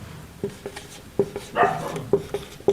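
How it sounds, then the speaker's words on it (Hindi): A neighbour's dog barks at night outside, a series of short, muffled woofs at irregular intervals from some distance, with a faint whine partway through. "पड़ोस में कुत्ता भौंक रहा है"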